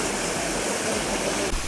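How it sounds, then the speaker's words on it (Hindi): Lang Chirikso waterfall in Karbi Anglong gives a steady, dense rush of flowing water, close and unbroken for the whole short stretch. "अभी दिखाएगा आप लोगों को लांगचिरिक्सो वाटरफॉल।"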